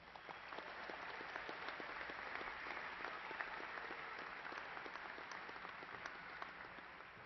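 A graduation commencement crowd applauds graduates with steady, dense clapping that carries evenly throughout, somewhat distant and moderately quiet.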